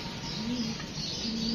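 Wild pigeons coo softly in a short, faint, repeated pattern over low background noise outdoors, with no talking.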